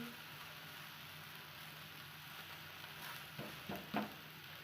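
A thin gram flour besan dhirde sizzles steadily in a hot pan, a soft continuous frying hiss with a few brief scraping stirs near the end.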